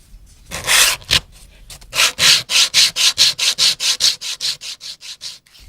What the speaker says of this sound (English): the next part of the process is sanding my dome on the edges before I can solder it